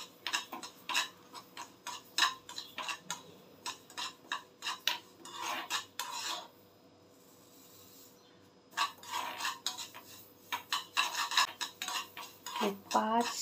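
Spoon scraping and stirring ragi flour as it roasts in a pan over low heat, a steady run of close, irregular clinks and scrapes that pauses for about two seconds midway.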